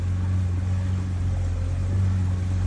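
A steady motorboat engine drones close by on the water at Poovar Island, Kerala, a constant low hum with wash of water noise and no voices.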